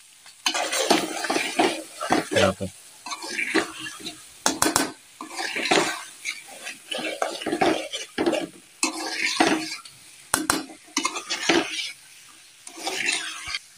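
A spoon stirs a beaten egg into an aloo (potato) mixture in a frying pan. It scrapes and clatters against the metal in quick repeated strokes over a light sizzle, close and fairly loud, with no talking.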